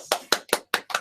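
Five quick, sharp claps spaced evenly in about a second, close and moderately loud, sounding like one person clapping a brief round of applause during an online tech broadcast.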